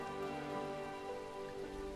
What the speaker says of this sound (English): This must be the place where the rain never lets up.